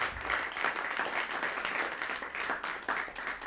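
An audience welcomes guest Chris Meyer at a modular and electronic music talk with steady, fairly close applause that rises and falls in waves.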